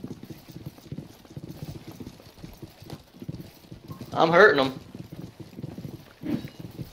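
Horse hooves clip-clop faintly and rhythmically in a combat video game, an irregular patter low under players talking, with a louder burst of noise midway.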